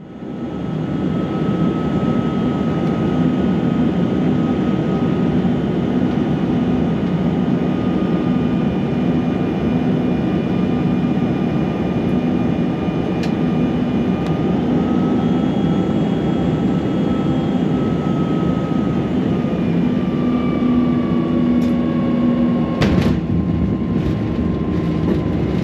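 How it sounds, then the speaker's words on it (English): Steady, loud jet engine roar heard from inside the cabin of a small British Airways jet on a steep descent into London City Airport, holding constant throughout with faint tonal whines and a brief clunk near the end. "let's buckle up, it's time for a steep approach into London City Airport."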